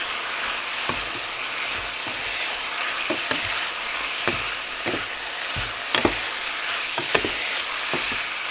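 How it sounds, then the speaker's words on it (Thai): Pork belly stir-fries with ginger and chili in a hot pan, a continuous sizzle broken by sharp scrapes and clacks of a spatula striking the pan at irregular intervals, close and without talk. "ผัดสักแป๊บนะคะ"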